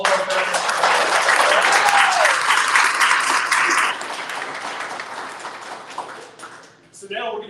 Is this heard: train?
no